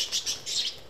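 Parakeets at a rescue holding hundreds of surrendered birds give a rapid run of high chirps, several quick bursts close together and moderately loud.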